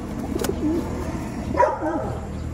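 Pet pigeons, gray and blue bar, give a few low soft coos close by, with faint background noise around them.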